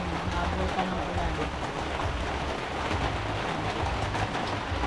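Heavy rain pours down in a steady, dense hiss that carries on without a break, with a low rumble underneath and faint voices mixed into the wash.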